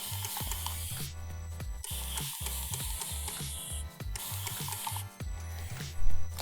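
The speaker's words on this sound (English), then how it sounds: "just dampen down the hair with that continuous mist bottle" A continuous mist spray bottle dampens hair in a salon, giving two long, soft hissing bursts over rhythmic background music with thumping low beats.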